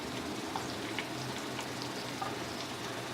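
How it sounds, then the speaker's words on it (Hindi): Onions frying with garlic in a pan for Chinese-style egg fried rice, a steady close sizzle and crackle with faint scattered pops throughout, no talk. "1-2 मिनट इसको फ्राई करेंगे।"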